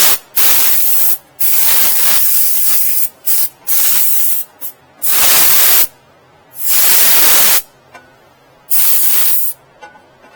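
An aerosol can sprays the battery area of a Mahindra 1526 tractor in several separate hissing bursts of uneven length, close and loud, with short silent gaps between them.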